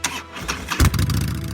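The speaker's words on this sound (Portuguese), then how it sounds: "Ele deu a partida no pedal da moto." A motorcycle engine kick-started with the pedal, a short scraping kick followed by the engine catching and settling into a rough, throbbing idle, close and loud.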